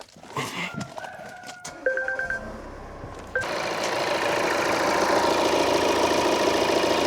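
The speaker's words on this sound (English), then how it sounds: "I will start the engine" A Volvo's engine cranks over amid a few clicks and warning chimes, then catches and settles into a steady, fairly loud idle that continues to the end.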